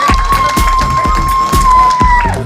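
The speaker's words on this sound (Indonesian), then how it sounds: "aplaus buat Bapak Ibu semua yang hadir di sini" A crowd at an outdoor car free night event in Kelurahan Pejeruk claps and cheers, with steady rhythmic applause and shouts under a sustained tone, while voices carry through the noise.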